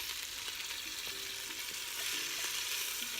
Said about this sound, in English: I'm gonna start to hear it sizzle. Just need to saute both sides so that they're just brown